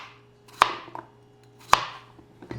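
Two sharp knife chops through peeled potatoes into a cutting board, spaced about a second apart, close and crisp, with small scraping clicks between and no talking.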